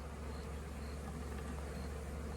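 Bees swarm with a steady, dense buzzing drone while being knocked from a box into a hive, continuous and fairly close with no pauses or voices.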